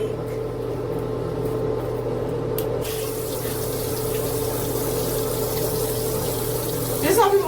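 Running tap water splashing in a sink while a face is washed with a cleanser, with a steady wet rushing and a low pump-like hum throughout, plus a brief louder splash near the end.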